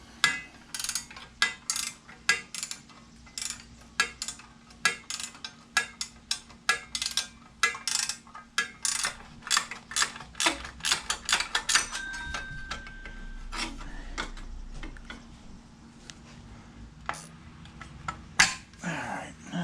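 Parts of a go-kart chain guard being worked off by hand: a long run of sharp metallic taps, scrapes and clicks at close range, irregular and busy, with a brief ringing tone partway through.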